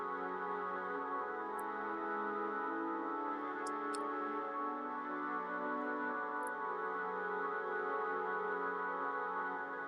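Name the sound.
Ableton voice box synth pad playing chords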